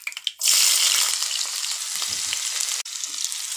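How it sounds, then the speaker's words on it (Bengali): Chopped onion drops into hot oil already seasoned with cinnamon and cardamom, setting off a loud, steady sizzle that holds at close range with a brief dip near the end. "এখন পেঁয়াজ কুচি দিয়ে দেবো।"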